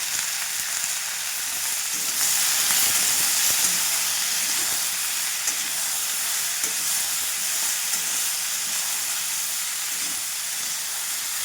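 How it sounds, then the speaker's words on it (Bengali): Chopped vegetables fry with salt and turmeric in a pan for a Bengali chorchori, giving a steady, fairly loud sizzle and hiss with faint stirring scrapes throughout and no talking. "দেখো কেটে রাখা সবজিগুলো দিয়ে দিয়েছি, এবার ভালো করে ভেজে নেব।"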